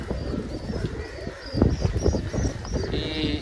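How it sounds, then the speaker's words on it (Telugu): Pet pigeons coo and flutter around their evening feed in a cool-weather loft, with soft overlapping calls and light rustling close by, and a few bird chirps in the background. "మన బర్డ్స్ మొత్తం అన్ని ఇప్పుడు ఈవినింగ్ టైం అయితే మనం ఫీడింగ్ ఇస్తున్నాం ఫ్రెండ్స్ బర్డ్స్కి"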